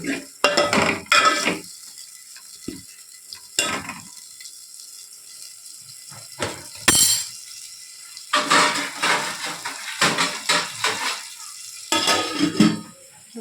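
Red lentils and tomatoes are stirred in a cooking pot, giving a spoon's scraping and clinking in irregular bursts, close and fairly loud, with a soft wet sizzle between strokes and no talking.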